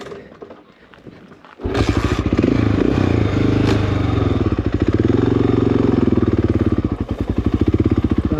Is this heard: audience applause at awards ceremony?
no